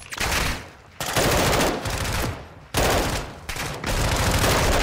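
Call of Duty Modern Warfare 2 gunfire roars in several long, loud, close automatic bursts separated by brief lulls, dense and continuous through each volley.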